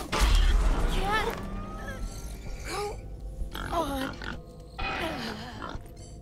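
A pig grunts during combat in the video game Wasteland 3, several short rough grunts spaced apart amid game mechanism clanks and thuds, with someone talking over parts of it.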